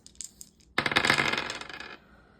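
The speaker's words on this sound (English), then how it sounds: "We need 3 dice." Three dice rolled together make a brief, dense rattle and clatter lasting a bit over a second, close and fairly loud in an otherwise quiet room.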